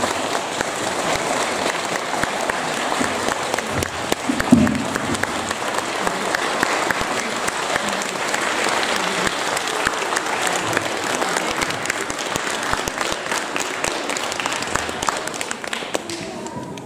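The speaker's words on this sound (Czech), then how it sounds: "naši učinkující zaslouží potlesk" An audience at an elementary and nursery school Christmas concert claps for the performers, a long, dense, steady round of applause from a packed hall, with occasional louder thumps and taps mixed in.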